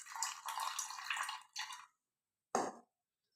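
Water is drained from soaked moong dal and rice: two loud, splashy bursts of pouring and trickling, then a pause and one final short splash, close and with no voices.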